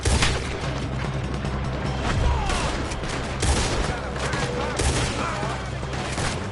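Red Dead Redemption 2 shootout during a robbery, heavy gunfire crackling almost nonstop over a dense, loud battle din, with rapid overlapping shots and booms filling the whole stretch.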